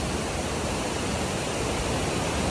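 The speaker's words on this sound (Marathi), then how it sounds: "माझ्या पाठी तुम्ही बघतच असाल खूप छान सुंदर असा धबधबा वाहतो बघा" A steady, loud rush of falling water from a waterfall at Dhutpapeshwar temple roars without pause, a dense continuous wash with no other sounds standing out.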